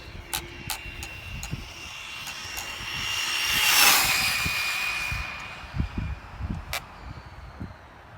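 A Traxxas Slash 4x4 RC car running on 4S at full throttle, a high-pitched electric whine rising as it passes near, then fading away, with gravelly crunches and outdoor wind.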